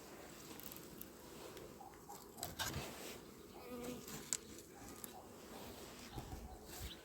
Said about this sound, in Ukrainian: потепліло і бджол активізувався